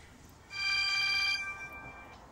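A telephone rings in a house, giving a sustained electronic trill for about a second. A fainter, briefer trill follows, clear and alone over quiet room tone.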